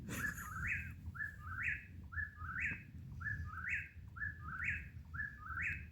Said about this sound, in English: I'm gonna have to find that bird to shoot it.